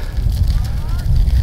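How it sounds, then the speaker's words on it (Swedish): Outdoor campfire of real wood burning, a steady low rumble with faint crackle and wind over the mic, continuous and fairly loud with no talk. "Det är ju lite skönare med lite riktig eld."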